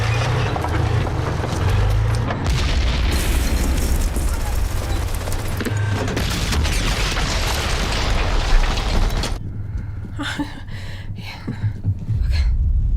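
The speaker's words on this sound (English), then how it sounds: "Sticky bomb." A sticky bomb blows up during a battle scene in the 1998 war film Saving Private Ryan, a loud, dense roar of blast and debris that fills the scene before cutting to quieter gunfire, while a viewer reacts over it.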